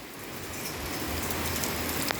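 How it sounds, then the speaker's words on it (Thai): Heavy, steady rain falls continuously during an all-day downpour, forming a dense, even hiss close by, with no voices. "ฝน ตอนนี้กับฝนตกนะครับ ฝนตกตลอดเลยนะครับ"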